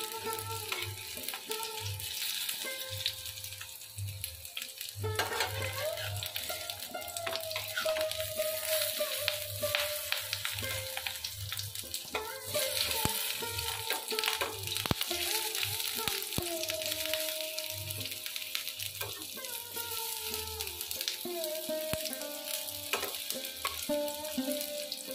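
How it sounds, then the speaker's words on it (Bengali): Pumpkin leaves coated in gram flour batter fry in mustard oil with a steady, loud sizzle, interrupted now and then by stirring and turning noises and scraping against the pan; nobody speaks. "তো এবারে আমি কুমড়ো পাতা দিয়ে বেসন দিয়ে এটা ভেজে নেবো।"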